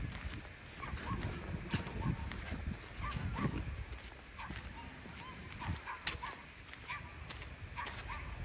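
Dogs bark and yip intermittently on Brighton beach, a mix of near and farther barks over a busy outdoor background with wind and faint voices.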